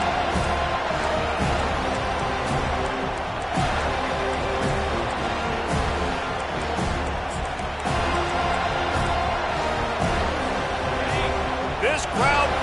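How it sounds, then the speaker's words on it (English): Dense, steady stadium crowd roar in a Madden football video game fills the whole stretch, with occasional swells and thuds under a constant wash of noise. "This crowd bringing the energy and noise early."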